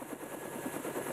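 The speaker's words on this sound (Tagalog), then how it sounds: "Sakay ng helicopter si Mang Tony na siyang mag-uwi ng bangkay ng anak sa kanilang tahanan" A helicopter flies in the mountains of Mt. Halcon, its rotor giving a rapid, steady chop that stays at an even loudness throughout.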